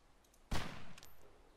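A single sharp gunshot bursts out in the video game DayZ, loud and brief, followed by a short echoing tail and faint clicks.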